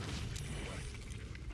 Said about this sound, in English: This is a fire explosion.